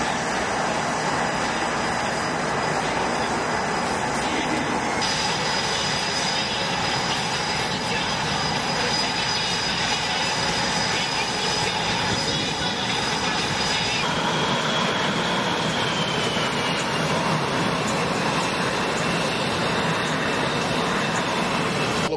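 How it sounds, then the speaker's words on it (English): U.S. Navy Blue Angels jets roar through takeoff at Marine Corps Air Station Cherry Point, a loud, continuous wall of engine thrust with high whining tones shifting in pitch, an announcer faintly audible beneath. "Pilots begin their takeoff maneuvers in a dynamic display of the thrust producer."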